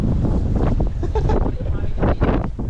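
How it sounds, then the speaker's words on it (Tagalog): Strong wind buffets the microphone at a fishing pond, a rough, gusty roar that rises and falls in bursts, with voices talking briefly over it. "Lakas ng hangin eh."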